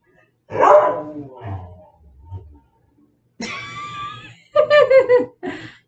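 A voice imitates a dog barking, several short yappy barks after a few spoken words, close and loud.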